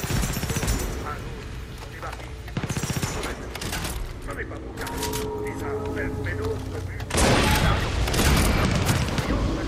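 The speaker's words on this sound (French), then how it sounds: "Je sais pas sur qui il tire comme ça." Gunfire in Far Cry 6 crackles through the clip as scattered shots and bursts, some distant and some nearer, with a louder volley near the end, while someone talks over the action.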